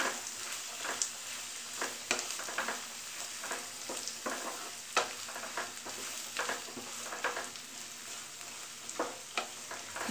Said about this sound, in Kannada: ಈರುಳ್ಳಿನೂ ಕೂಡ ಚೆನ್ನಾಗಿ ಫ್ರೈ ಮಾಡ್ಕೋಬೇಕು.